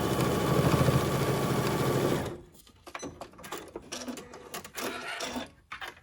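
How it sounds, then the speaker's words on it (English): A sewing machine stitches across the clipped corners of a makeup bag with a 1/4 inch seam, a loud continuous whirring run that stops abruptly, followed by quieter short bursts of stitching and mechanical clicks. "Here we are back at the sewing machine, and I am just going to stitch these corners"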